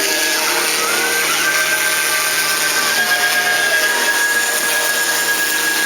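CNC milling machine running a finish pass on an MD-87 part, a loud continuous cutting hiss with a high steady whine whose pitch shifts slightly as the tool moves, no voices.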